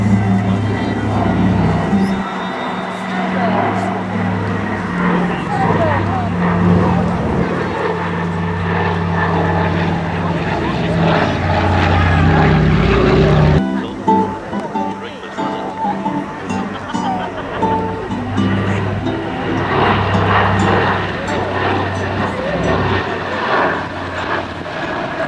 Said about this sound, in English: Please enjoy this display by the Catalina.